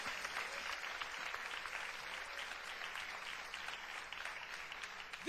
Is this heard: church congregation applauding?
yes